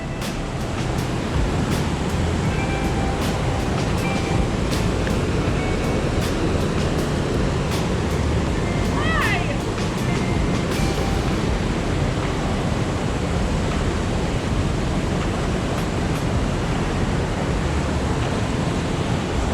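A steady roar of falling water pours in a rocky canyon, a constant broadband rush close by, with scattered sharp clicks and a faint high chirp over the continuous noise.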